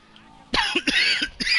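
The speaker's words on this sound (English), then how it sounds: "Okay, actual coughing." A man indoors coughs several times in quick, harsh bursts after a quiet start, close to the microphone and with no talking around the coughs.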